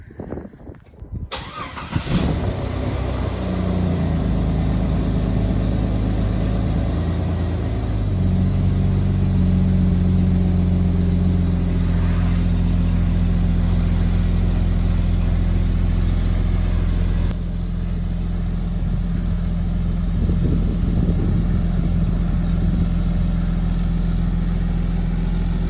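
Jeep XJ on ICON Rebound Pro beadlock-alternative wheels, its engine starting and then idling steadily up close inside a shop as it is rolled out, with a slight rise in revs near the end.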